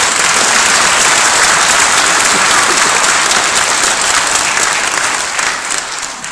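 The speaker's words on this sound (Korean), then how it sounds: "우리 힘찬 박수를 보내드립니다" A large hall audience gives loud, vigorous applause, a dense wash of clapping that holds steady for about five seconds and then begins to thin out.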